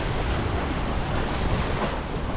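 Light breeze and waves at the Straits of Mackinac, a steady broadband wash of surf and wind rumbling against the microphone, with no voices.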